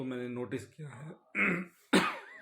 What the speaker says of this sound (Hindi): बोलते हुए थोड़ा सा खांसी आ गई।